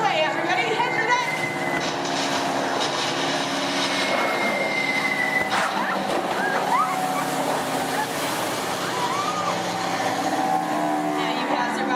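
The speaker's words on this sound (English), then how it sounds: "you hear more enemy planes approaching" Enemy bomber planes in a theme-park ride show effect rumble loud and continuous, a droning roar of aircraft with wave-like washes and crackling bursts mixed in, while a narrator talks over it.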